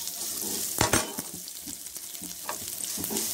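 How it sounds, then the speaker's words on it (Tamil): Onions sizzle as they fry in a pan for a quick saalna, with a steady close crackle and occasional clinks and scrapes of a stirring spoon, with no talking. "இதுக்கப்புறம் நான் வெங்காயம் ஆட் பண்ணிக்கிறேன்."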